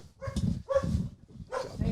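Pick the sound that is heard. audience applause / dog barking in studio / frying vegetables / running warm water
dog barking in studio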